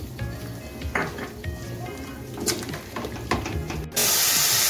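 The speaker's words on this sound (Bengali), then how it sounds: "সব কিছু আমি গ্যাসটা লোতে রেখে 4 থেকে 5 মিনিট ভালো করে কষিয়ে নেব" Masala sautéing in a pan over low gas for a hotel-style egg curry, a soft steady sizzle broken by scraping spatula strokes against the pan, with a sudden louder hiss near the end.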